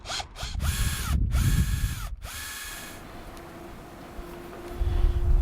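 A power drill bores through cured epoxy on a sailboat in several loud, close bursts separated by brief pauses, followed by a quieter stretch of faint mechanical noise and a last rise in sound near the end.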